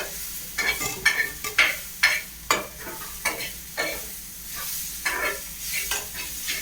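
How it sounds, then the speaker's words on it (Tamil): Potatoes fry in a pan, stirred in repeated scraping strokes roughly every half second over a steady background sizzle, close and clear with no talking. "நமக்கு இருக்கிற உருளைக்கிழங்க போட்டுக்குவோம்"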